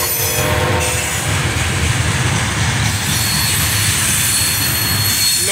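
An eastbound freight train rolls past on a Saturday morning, a loud, steady roar of railcars and wheels with a faint metallic squeal running high above it throughout.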